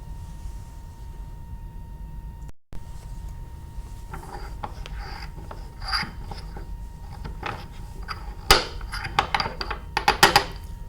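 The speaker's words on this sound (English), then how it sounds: "we're going to grind it up into a fine powder using our mortar and pestle" A pestle grinds a lactase tablet in a mortar, with faint rubbing at first, then sharper scraping and clinking strikes that grow louder and more frequent toward the end, over a low steady hum.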